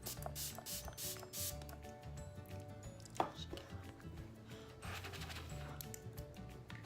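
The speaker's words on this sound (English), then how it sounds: "I'm going to take this brush and I'm going to spritz that with the Fix Plus." A few quick, soft spritzes of Fix Plus setting spray onto a makeup brush, faint hissy bursts among small handling noises, with no talking.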